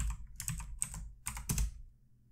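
Quick bursts of typing on a computer keyboard, close and clear, with clusters of key clicks separated by short pauses before falling quiet.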